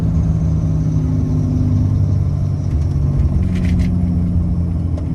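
A Ram Cummins 6.7L diesel truck with a rebuilt turbo slows down with the turbo brake engaged, giving a loud, steady low engine rumble and drone throughout, with faint higher whines and brief hissing bursts near the end.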